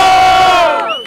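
Audience at a hip-hop battle final in Botafogo erupting in a loud cheer for a rapper, a short dense roar of voices that tails off quickly.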